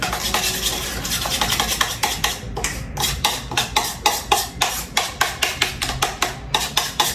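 Rehydrated onion soup mix is stirred in a bowl with a spoon, making fast, rhythmic scraping and clinking strokes that grow more regular toward the end, close by and with no talking.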